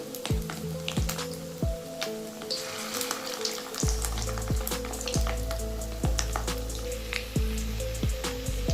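Gram-flour fritters made with fish roe fry in hot oil, a dense close crackling sizzle with frequent pops and spits that grows fuller partway through, steady and loud.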